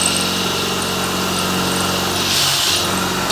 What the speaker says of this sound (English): this is a HSS bit which will drill metal, so I'm going to go through the pipe